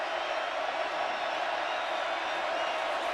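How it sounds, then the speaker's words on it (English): A crowd at a college football stadium during a West Virginia versus Texas game gives a steady, distant roar of cheering that neither rises nor falls. "Crowd really getting into it now."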